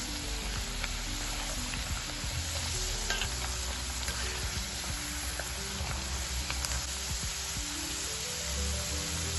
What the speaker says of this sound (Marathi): अशा पद्धतीने आपण इथे सर्व फ्राईज तळून घेतलेले आहेत